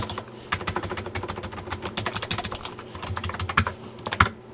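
Rapid, close keystrokes on a computer keyboard as a password is entered, a quick irregular run of clicks with a couple of heavier taps near the end.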